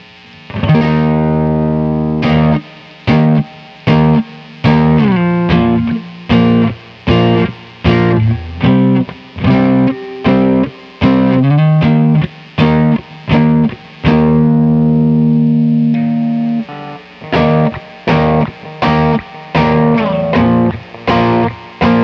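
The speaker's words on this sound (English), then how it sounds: "All right, that was the spring reverb." An electric guitar played with a pick through spring reverb plays choppy distorted chords and notes with a splashy reverb tail, loud and close. Stops and restarts repeatedly, with no voices.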